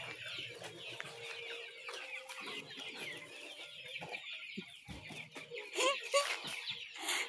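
A large flock of chickens clucks busily while feeding in a rural yard, a continuous chorus of overlapping clucks with a few louder calls near the end.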